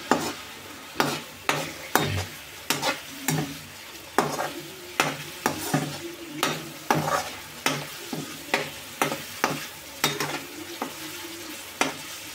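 Curry leaves, turmeric and onion paste being stirred in a hot pan for a plantain fritter curry, a soft sizzle broken by regular, rhythmic scrapes of a spoon against the pan, close and steady with no talking.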